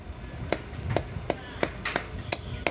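A plug wrench struck with a hammer to lock a gearbox part on a Hero Splendor or Glamour motorcycle: six sharp metallic blows at a steady rhythm, close and distinct, with no talking.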